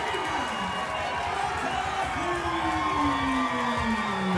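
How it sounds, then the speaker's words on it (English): Loud crowd cheering, whooping and shouting at a white-collar boxing match in London, steady and dense throughout the celebration of a fighter's first win, with a drawn-out call carrying over the roar. "The crowd go wild as G-Mac takes his first win"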